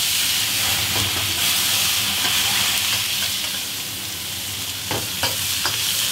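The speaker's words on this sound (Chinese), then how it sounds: "炒香之后加入牛肉，" Beef stir-frying in hot rapeseed oil with aromatics, a loud continuous hissing sizzle close by, with a few faint scrapes of a spatula near the end.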